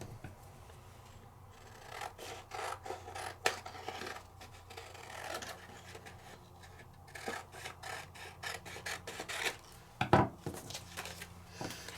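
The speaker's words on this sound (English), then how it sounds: "I'm going to trim this down." Paper being trimmed down for a stenciled tag, giving a run of quiet scratchy cutting strokes and rustling handling noises, with a few sharper clicks near the end and no talk.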